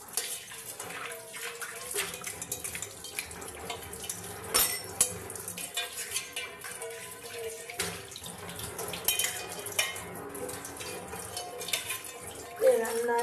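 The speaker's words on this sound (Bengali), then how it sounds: "আর এখানে বাসন আমার মাজা হয়ে গেছে, এবার ধুয়ে নেবো" Scrubbed dishes rinsed under running tap water, a steady splashing flow with frequent clinks and clatters of utensils, close by and continuous.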